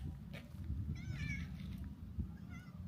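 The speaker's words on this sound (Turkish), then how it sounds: "Kedi de geliyor bak." A cat meows outdoors, two or three short, fairly faint mews rising over a low rumble of background noise.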